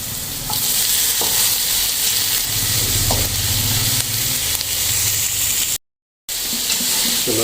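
Onion, garlic and tomato sautéing in a pan, a steady loud sizzle with scraping stirs and utensil clinks throughout, broken by a brief moment of silence near the end.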